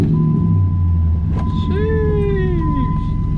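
Nissan G35 NISMO engine on a cold start, a low idle that sweeps up into a sharp rev and then falls back, close by, with someone talking over part of it.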